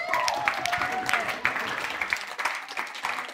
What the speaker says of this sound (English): And how about we give a round of applause for Jess?